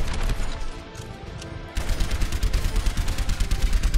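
Gunfire in the video game Overwatch during a Halloween brawl, a sustained rattling barrage of shots that drops out briefly and then resumes denser and louder.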